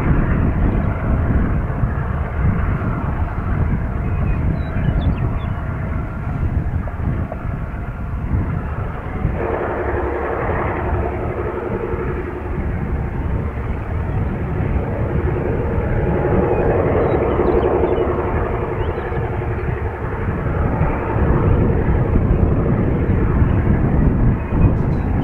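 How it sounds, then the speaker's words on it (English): Two diesel Geep locomotives labor hard hauling train 614 around a bend on the Goose Lake Railway's Lakeview Branch, a steady, continuous rumbling drone heard from a distance with the engine effort swelling and easing throughout. "As 614 rounds the bend, we can hear the effort by the two Jeeps as it carries through the air."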